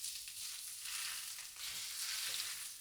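Smoking-hot oil hits steamed Cantonese-style whole fish topped with scallions, a bright continuous hiss and sizzle, close and steady throughout, with no talking.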